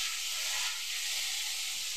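Fish frying in a pan: a steady, close, bright hiss and sizzle of hot oil that holds constant throughout, with no talk.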